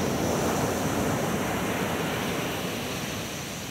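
Heavy ocean surf rolls onto a beach with strong, dangerous currents, a steady, loud broadband roar of crashing water with some wind, continuous and fairly close, with no voices over it.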